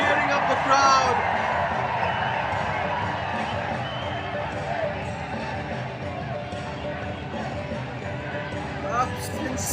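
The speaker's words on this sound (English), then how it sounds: "Look at the Lajong players cheering up the crowd." Stadium crowd at a Shillong Lajong I-League football match roars and cheers steadily after a late headed goal, a broad sustained din of many voices with scattered shouts throughout.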